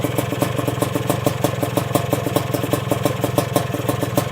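A motorcycle engine idles close by with petrol contaminating its oil after a blown seal, giving a steady, even, loud clattering putter with a regular pulsing rhythm and no speech.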